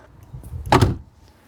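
A Mini Cooper scissor door swings shut with one short, sharp click close to the mic, a single brief impact followed by quiet.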